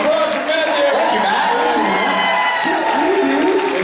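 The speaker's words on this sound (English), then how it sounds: "Round of applause for Matt there" An audience at a convention panel (BURCON 2019) cheering and whooping for a guest, a dense near crowd roar with shouts over it, steady and loud throughout.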